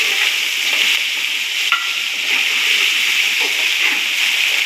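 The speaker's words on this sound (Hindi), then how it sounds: "अदरक लहसुन का पेस्ट है, इस मौके पे ये शामिल कर लेना है। इसे थोड़ा सा भून लेना है।" A ginger garlic paste frying with browned onions in a pan, a steady close sizzle and hiss with occasional stirring scrapes, no talking.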